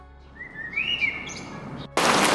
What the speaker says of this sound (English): like birds,